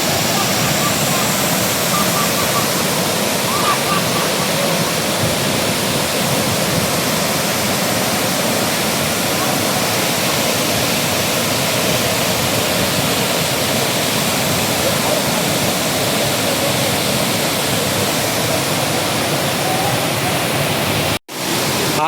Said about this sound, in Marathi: कसा आहे धबधबा?